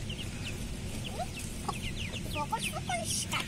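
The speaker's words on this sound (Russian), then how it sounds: "Так, что там делают куры сзади меня?" Chickens cluck softly nearby in a backyard coop, scattered short clucks and chirpy calls over a low outdoor rumble, with no speech.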